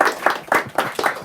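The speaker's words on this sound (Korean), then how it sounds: "박수 한번" A short burst of rhythmic audience clapping at a book concert, about five or six distinct claps in an even beat, close and fairly loud.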